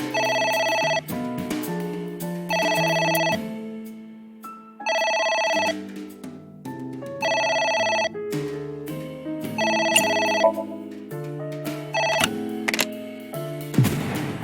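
Repeated telephone ringing in the video game AI: The Somnium Files, with regular bursts of a bright electronic ring separated by short gaps over quiet background music, close and clear without speech.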